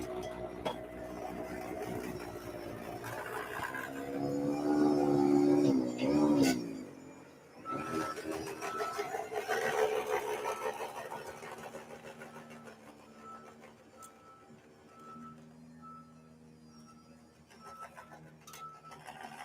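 A Muskox 78-inch bi-directional snowblower runs across a gravel driveway, its engine droning and rising in a loud surge with whining, clattering mechanical tones, then settling to a steadier hum.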